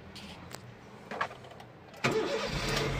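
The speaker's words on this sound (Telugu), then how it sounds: "వెహికల్ స్టార్ట్ చేసిన స్టార్టింగ్లో ఎలాంటి ట్రబుల్ అయితే లేదు." A 2013 or 2014 Honda Amaze petrol car is cranked and started, with a few faint clicks followed by a sudden rise into a steady near idle, heard alone without talk.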